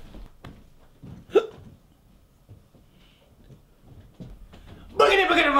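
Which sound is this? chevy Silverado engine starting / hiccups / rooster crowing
hiccups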